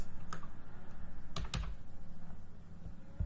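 Typing on a computer keyboard while entering a git clone command, a steady run of soft key clicks with a few sharper strokes, close and alone without talk.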